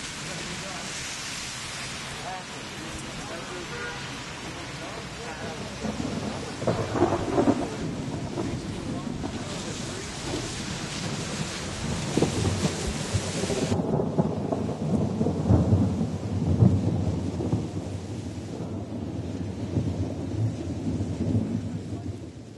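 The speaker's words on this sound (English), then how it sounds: "A storm was coming, and I was out of time." A thunderstorm with rain pouring steadily and deep rolling thunder rumbling in waves, loud throughout, with a voice speaking over it.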